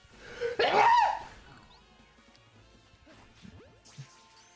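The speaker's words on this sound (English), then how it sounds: "That was an unadulterated sneeze." A single loud, explosive human sneeze bursts out near the start, then fades into quieter game sounds and faint background noise during a live Pokemon Legends Z-A play session.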